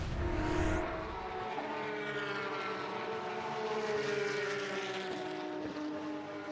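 Porsche GT3 Cup race car with a flat-six engine at Watkins Glen, a sustained engine note that holds steady with a faint rise and fall in pitch, loud at the start and then easing slightly.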